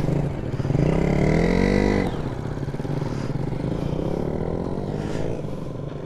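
A Benelli motorcycle rides off, its engine revving up and shifting through gears with a rising and falling whine over a steady rumble, close by.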